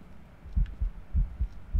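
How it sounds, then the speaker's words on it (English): Ghost heartbeat in the video game Phasmophobia: low, muffled thumps arriving in steady paired beats, heavy and close, with nothing else over them. "Oh, I hear the heartbeat."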